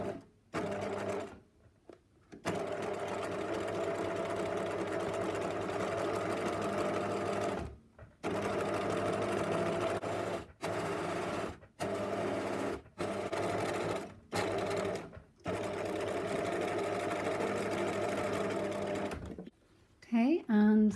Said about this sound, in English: I'm going to sew the two pieces of fabric together on the side